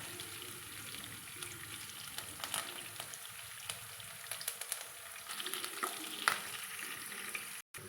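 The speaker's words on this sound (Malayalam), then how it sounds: "ഈ എണ്ണയിലേക്ക് കുറച്ച് ചതച്ച് വച്ചിരിക്കുന്ന വെളുത്തുള്ളി ചേർത്ത് കൊടുക്കാൻ പോവുകയാണ്." Crushed garlic and curry leaves fry in hot oil for pakkavada, a steady close sizzle and crackle with faint stirring and scraping noises, and a short dropout near the end.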